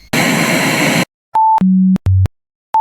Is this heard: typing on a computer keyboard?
no